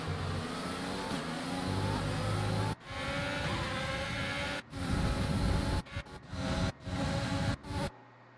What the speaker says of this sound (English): And there's what the Mercedes engine kind of sounds like.